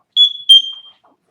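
An MSA G1 SCBA powering off gives two quick, shrill electronic beeps in close succession, loud and clean against silence.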